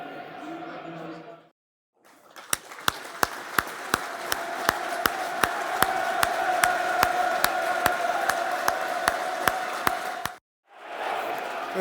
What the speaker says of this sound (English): a minute's silence, or a minute's applause for Memorial Day this afternoon